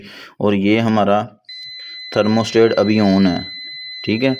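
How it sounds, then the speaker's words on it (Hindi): A multimeter set to continuity beeps as its probes test a refrigerator thermostat, a steady two-tone electronic buzz holding for about three seconds while someone talks over it. "आपको बज़र की आवाज़ भी सुनाई दे रही होगी"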